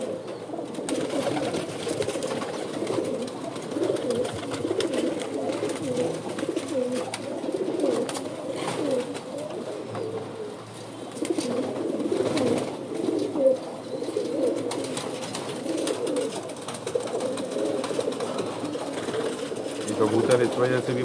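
Caged pigeons cooing steadily, a dense layer of soft overlapping coos from many birds close by, continuing throughout with a voice speaking over them.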